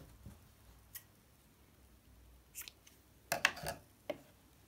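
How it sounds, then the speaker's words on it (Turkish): Scissors snip crochet yarn in a handful of short, crisp cuts, clustered near the end after a few faint isolated clicks, in a quiet room. "ipi kesiyorum."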